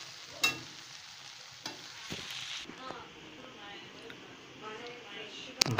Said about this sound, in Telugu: బాగా ఇట్లా కలుపుకోవాలి